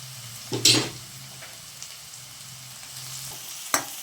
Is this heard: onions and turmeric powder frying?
yes